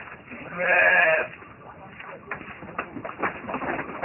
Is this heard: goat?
yes